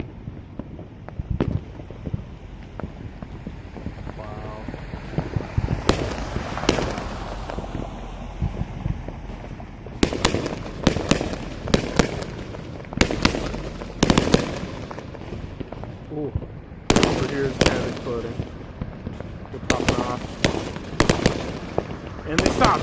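Booming fireworks go off in bursts of sharp cracks and echoing bangs from a city-wide show marking America's 250th, some far and some close, with wind buffeting the microphone between the volleys.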